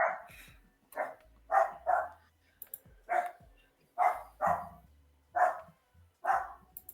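A pet dog barks repeatedly indoors, sharp loud barks spaced about half a second to a second apart in an irregular series, with no talk over them.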